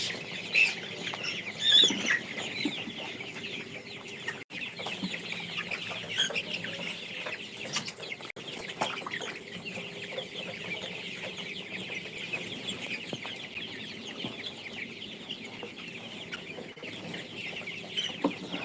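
Colour broiler chickens 28 days old, of a coloured broiler strain, cluck and murmur steadily as a dense flock with overlapping calls that stay fairly close and even throughout, without talk.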